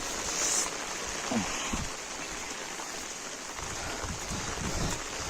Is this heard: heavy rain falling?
yes